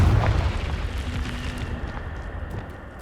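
Explosion from the Confringo fire spell in Hogwarts Legacy, a deep, loud boom at the start that rumbles and fades into a crackling tail over about three seconds, with no voices.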